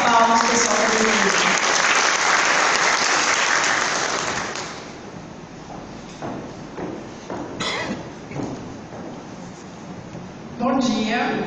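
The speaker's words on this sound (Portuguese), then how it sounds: "uma salva de palmas, pessoal, para vocês" Loud audience applause at a business pitch workshop and networking event lasts about four seconds and fades to scattered claps under background chatter, then a voice speaks near the end.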